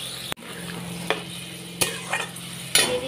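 Mixed vegetables with poppy seed paste simmering in a pan after a little water is added, a soft steady sizzle close by, broken by a few sharp clicks and knocks of a spoon or utensil against the pan.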